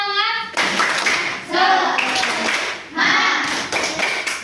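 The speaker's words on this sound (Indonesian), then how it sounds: "Tepuk semangat." Fifth-grade schoolchildren in a classroom perform a rhythmic spirit clap, sharp bursts of many small hands in patterned groups separated by brief pauses, with a teacher's voice speaking between the bursts.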